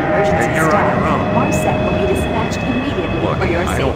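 A monorail train in the Doom 3 video game runs with a steady, loud rumbling drone and faint whining tones, while a voice speaks over it.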